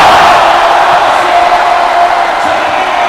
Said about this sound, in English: Brandon Rosser electrifying the crowd here in Caloocan.